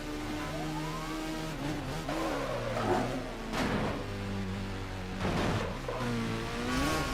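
Customized Kawasaki Ninja motorcycle racing in Midnight Club 3: DUB Edition Remix, its engine droning steadily with rising and falling revs and gear-change pitch sweeps, loud and continuous throughout.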